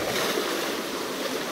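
Water churns and splashes steadily as people jump into a pool, a broad continuous wash of splashing up close with no voices heard.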